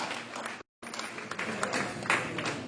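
A church congregation applauds in a dense, continuous wash of clapping that cuts out briefly, then carries on at a steady level.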